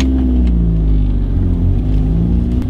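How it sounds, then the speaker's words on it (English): Manual car pulling away on a hill start, its engine droning low and loud as revs climb and settle while the clutch and gas balance, heard close and continuous without speech. "balance the clutch and the gas and bring the car forward"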